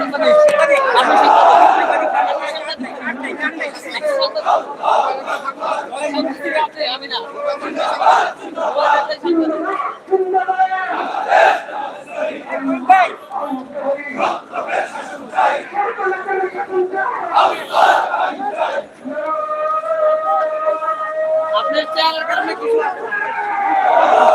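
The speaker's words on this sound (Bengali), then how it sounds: "তারা কিন্তু বিক্ষোভ মিছিল বের করেছে যেমন যে স্লোগান দিচ্ছে দাঁড়িপালা দাঁড়িপালা স্লোগান" A protest march crowd chanting slogans in unison, loud and near, rhythmic repeated shouts rising and falling over a steady hubbub of many voices, with a louder swell toward the end.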